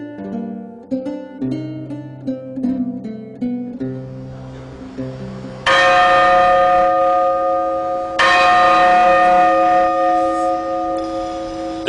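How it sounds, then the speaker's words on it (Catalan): The Caterina bell of Valencia Cathedral, cast in 1305, rings loudly nearby, first in a series of quick tolls, then with two big resonant strikes that hum and slowly fade. "La senten? És la Caterina."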